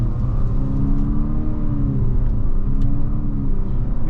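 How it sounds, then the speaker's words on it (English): Infiniti QX50 Sport AWD (2023) with a CVT accelerating, engine drone rising and dropping in stepped simulated gear shifts, loud and steady over continuous road rumble, no talking. "Now you can hear those simulated gears in the CVT firing off."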